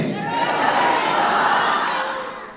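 A large audience at a Ukrainian beauty pageant roars and cheers in a sustained, loud swell that holds steady, then fades toward the end.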